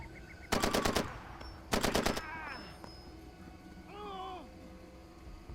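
Gunfire in the video game Far Cry 2: two loud bursts of rapid automatic fire about a second apart, then a ringing decay and a faint warbling tone over steady game ambience.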